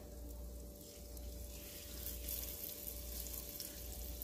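Hot oil sizzles steadily in a pan while chicken breasts and vegetables are being sautéed, giving an even, moderately faint frying hiss with no talk.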